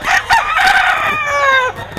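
A Golden Boy sweater gamecock crows loud and close, one long drawn-out call with a rising start and a held, wavering end, filling the whole moment with no talk over it.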